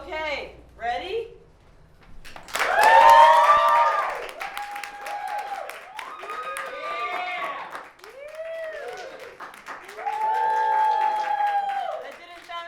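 A poetry slam audience cheers and whoops loudly in bursts, with shouting voices rising and falling over several seconds.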